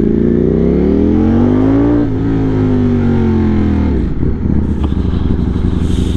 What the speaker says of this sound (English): The bike's not warm yet, so I can't go full bore.